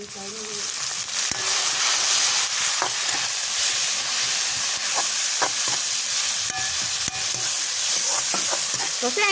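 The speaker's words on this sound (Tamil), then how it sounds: "வெங்காயம் பச்சை மிளகாய் கருவேப்பம் இலை கடுகு வெந்தயம் எல்லாம் இங்கே பாருங்க பொரிஞ்சு கொண்டு வருது" Onion, green chili, curry leaves, mustard seeds and fenugreek fry in hot oil for a Jaffna-style stingray fish curry, a loud, continuous sizzle with scattered popping crackles and occasional stirring knocks.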